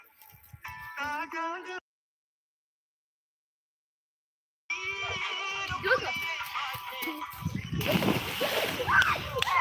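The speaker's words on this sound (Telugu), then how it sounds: "మీరు ఎగురుతున్నారు స్విమ్మింగ్ చేయి" Water splashes as people jump in and swim on a farm outing, with irregular sloshing amid voices and chatter, broken by a stretch of silence.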